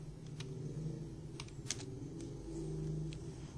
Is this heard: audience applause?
no